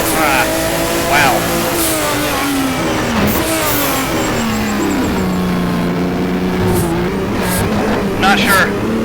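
Racing BMW M1 engine in the rFactor sim, a loud continuous wail rising and falling through gear changes and throttle lifts as the car is driven hard, with a brief tyre scrub in between.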